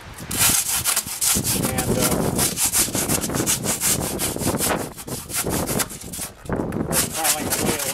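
Rough, rhythmic rasping strokes shape a foam sculpture base, loud and close with short repeated scrapes and brief pauses, and a voice speaks a word in between.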